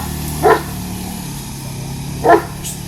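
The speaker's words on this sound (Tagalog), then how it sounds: "Siyempre, dominant yung mga aso ko. Tatahulan nila yun." A pair of dogs bark at a stray mixed-breed dog walking past, two short sharp barks spaced well apart over a steady low background hum.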